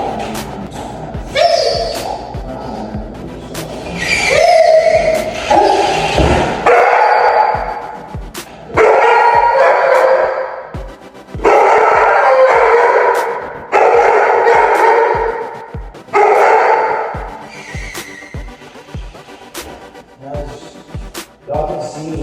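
A reactive dog barks loudly and close in repeated bursts of harsh barks and yips, separated by short pauses, with sharp clicks punctuating throughout.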